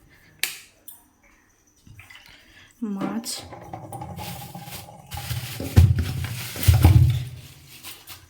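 Fish washed with water at a kitchen sink, with splashing, running and dripping water and handling noises that grow heavier toward the end, close by and without talk.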